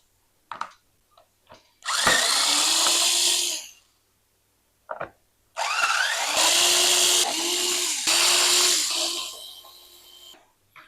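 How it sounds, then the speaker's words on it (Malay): A power drill backs out the rear screws of a Russell Taylor induction cooker: brief taps, then several loud whirring bursts of a few seconds each, separated by short pauses, close up and with no voices. "Jom, kita buka dulu skru bahagian belakang."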